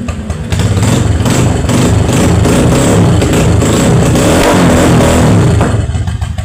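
A Sinski 150 motorcycle engine revs loudly and roughly at close range, holding a heavy, steady roar with sharp crackling pops mixed in before easing off at the end.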